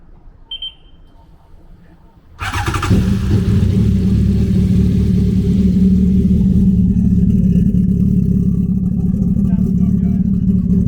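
A 2016 Honda Pilot engine cranks briefly and catches, jumping from near quiet to a loud, steady close idle that holds to the end, with a short high chime just before the start.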